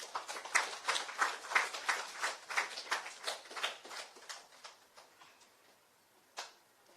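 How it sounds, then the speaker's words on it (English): A small audience at a youth movement website launch claps in short bursts, sounding like a few people applauding in a loose rhythm that thins out and ends with one last isolated clap. "Let us all give them a round of applause."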